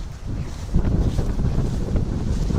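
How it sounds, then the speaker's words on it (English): Strong wind buffets the microphone outdoors on a farm, a loud, continuous low roar with gusty surges and no speech, near and rough throughout. "it's way too windy to start it now"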